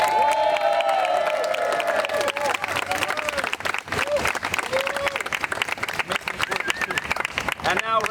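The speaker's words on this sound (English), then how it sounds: "Let's give a round of applause to these incredible" An outdoor crowd at a Brooklyn rally to save Long Island College Hospital breaks into sustained applause and cheering for nurses, with whoops and raised voices over dense, continuous clapping.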